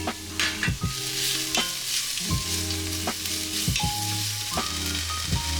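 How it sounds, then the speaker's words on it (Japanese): Red and yellow paprika being stir-fried in a pan for a Basque piperade, with a steady loud sizzle and repeated scraping stirs of a utensil against the pan; no voices. "で炒めましたら、ここでパプリカ赤と黄色だけ入れてください。"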